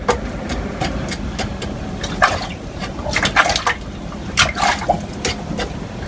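Water splashes and gurgles around a pool skimmer basket in short irregular bursts, with a steady low mechanical hum running underneath.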